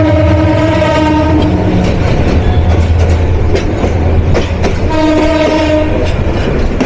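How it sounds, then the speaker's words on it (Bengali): Brahmaputra Express intercity train (Dhaka to Dewanganj Bazar, Jamalpur), hauled by a class 2900 locomotive with an Indonesian PT INKA air-brake rake, crosses on a double line in Bangladesh: a loud, steady rumble of passing cars with long horn blasts at the start and again near the end. "আমাদের সাথে ডাবল লাইনে ক্রসিং হয়ে যাচ্ছে ঢাকা থেকে জামালপুর জেলার দেওয়ানগঞ্জ বাজার অভিমুখী আন্তনগর ব্রহ্মপুত্র এক্সপ্রেস ট্রেনের সাথে।"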